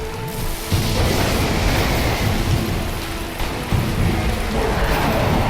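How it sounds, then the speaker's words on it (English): Multiple lightning strikes in the video game Dark Souls, a sustained, loud crackling roar with booming impacts that swell and re-strike every second or two, dense and noisy throughout. "Multiple lightning strikes."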